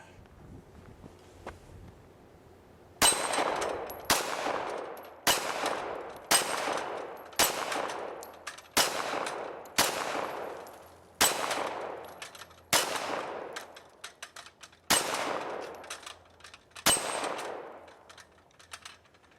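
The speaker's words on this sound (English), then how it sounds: "Next is a 45 shooting ball ammunition." .45 ball ammunition fires at a steel dueling tree, with eleven sharp gunshots in an irregular rhythm, each loud crack followed by a ringing decay, heard outdoors with no talk.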